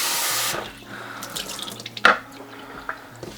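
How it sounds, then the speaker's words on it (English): Running tap water splashes steadily for a moment while rinsing a humidifier heating pad, then fades to quieter trickles and drips, with one sharper splash midway. "And rinse it with water."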